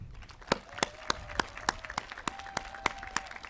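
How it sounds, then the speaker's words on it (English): Graduation audience applauding for the class of 2020, heard as a sparse, quiet clapping pattern in which a few evenly spaced sharp claps stand out over a faint, thin background of other clapping. "please join me in a big Midlakes round of applause as a thank you to all those who are cheering you on"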